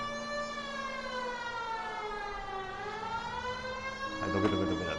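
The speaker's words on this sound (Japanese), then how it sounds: "サイレン鳴らすとみんな右側に受けてくれるんで" A police siren in L.A. Noire holds a steady wail, dips in pitch and rises again. Near the end a short burst of voice or noise cuts across it.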